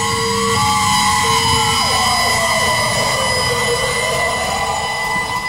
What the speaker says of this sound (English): fleets of emergency and fire vehicles going by,